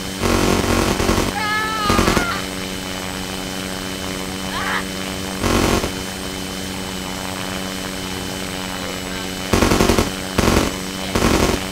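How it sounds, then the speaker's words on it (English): Bursts of machine gun fire from a plane in the Simple Planes flight game rattle out in short volleys over a steady droning engine hum. Several separate bursts are loud and close, and a voice talks between them. "I can hear the bullets."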